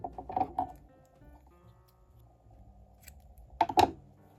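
Scissors snip trapillo yarn while crocheting a flower bag, two short crisp cutting clusters close up, one at the start and one near the end, separated by quiet handling.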